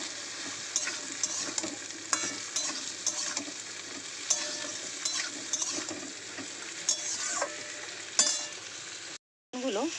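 Cut eggplant and onions sizzle steadily in hot oil while a spoon scrapes and stirs the pan in repeated strokes, close and fairly loud, with a brief dropout near the end.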